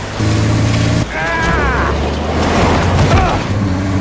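A speeding car roars in a police chase in the Mafia Definitive Edition video game, with a loud, dense engine and road noise filling the whole stretch and a brief sharp shift near the start.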